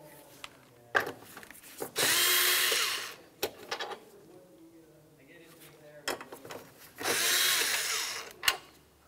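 Power tool removing two 8mm headed bolts from a Ford Flex, with two separate loud whirring bursts of a couple of seconds each and scattered clunks of handling between them.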